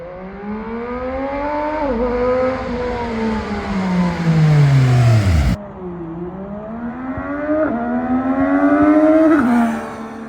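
A Zontes 703R inline-three motorcycle engine revs up and down repeatedly, loud and close, popping, its pitch climbing and falling in long sweeping runs with a sharp cut partway through.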